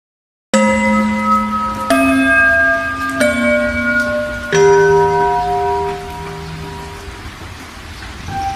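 School bell chimes in the video game Sakura School Simulator, a series of clear melodic tones struck one after another and ringing out, heard alone over a steady rain backdrop with no talking.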